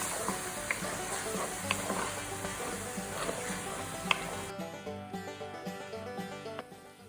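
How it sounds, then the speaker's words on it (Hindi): Garlic sizzles steadily in a hot pan over a medium-high flame, with a constant crackling hiss and occasional stirring scrapes, close and continuous. "मीडियम हाई फ्लेम पर भूनेंगे लहसुन को अच्छी तरह"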